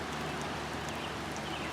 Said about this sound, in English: 'Cause it's raining again.